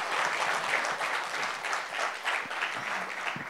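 An audience claps at an event honoring Chiranjeevi and Aamir Khan, a dense, steady round of applause that holds at an even level throughout, with a voice faintly underneath.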